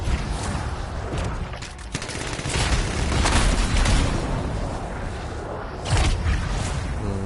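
Rapid bursts of gunfire and booming impacts in the video game Anthem, loud and continuous, with sharper blasts near the start and end.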